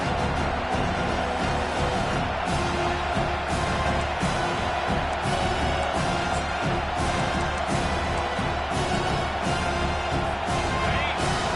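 Dense, steady roar of a stadium crowd cheering at a football game, with a broad wash of voices rising during a third-down defensive play and no single voice standing out.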